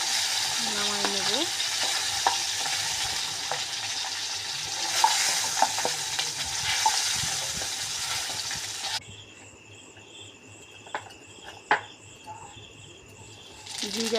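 Cumin, bay leaf, onion, garlic and vegetables hit hot oil in a kadai with a bright hiss and crackle. The frying settles to a quieter background with occasional clinks of stirring, while crickets chirp faintly in the background.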